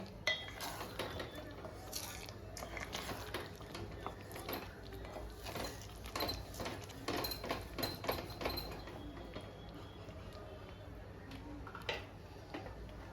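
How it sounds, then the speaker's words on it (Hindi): Egg gravy stirred in a pan for anda malai masala, with a steady run of clinks and scrapes of a utensil against metal, moderately loud and fairly close, easing off toward the end. "अच्छे से इसे मिक्स कर लेना है।"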